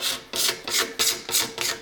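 Pocket knife scraping the back of an Osage orange bow stave, taking off pithy wood above a growth ring in six or so rhythmic rasping strokes, close and fairly loud.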